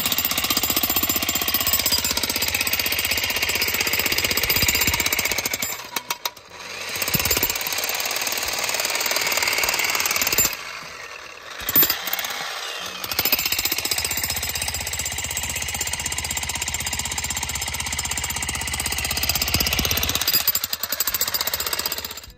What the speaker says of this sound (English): We even ran a jackhammer off this thing